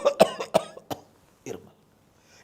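An actress coughs during a film shoot: a quick run of harsh, close cough bursts, a short pause, one more cough, then a final burst at the end, with no talking.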